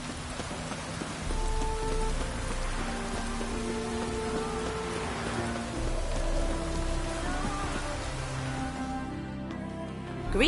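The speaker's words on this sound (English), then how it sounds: "Rain doesn't bother you, it seems." Steady rain pattering on a surface in the video game The Witcher 3, a constant wet hiss with soft tonal music-like sounds running underneath.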